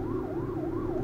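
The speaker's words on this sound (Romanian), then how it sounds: "mamă, ce mă sperie ambulanța aia" An ambulance siren wails on a Bucharest street, its rising and falling tone sweeping steadily over the rumble of traffic, loud and close throughout with no talk.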